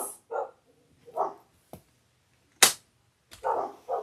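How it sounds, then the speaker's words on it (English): Dogs bark in short sharp bursts, several separate barks spaced irregularly, some close and loud, with sudden snapping cracks between them and no talk. "And my dogs are barking and being neighborhood nemesis."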